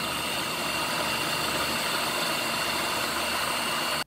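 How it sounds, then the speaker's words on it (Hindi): An electric kitchen chopper whirs steadily as it blends spiced minced meat for kofta curry. The motor drone runs loud and unbroken for about four seconds, then cuts off abruptly. "अब इसको चॉपर को चलाएंगे।"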